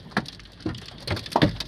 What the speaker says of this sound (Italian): c'è la grandine che è grosso come mandarini.